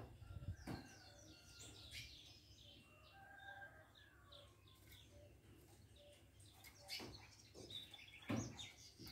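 A female pet songbird calling from nearby, hidden out of sight, giving faint, repeated short chirps and tweets at a distance amid low background noise, with a few louder bursts.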